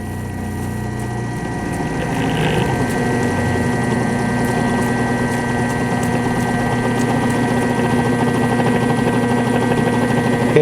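A lab electric motor hums steadily at reduced speed, around 382 RPM, with sustained tonal whine and a slight rise in level early on, loud and continuous with no talking.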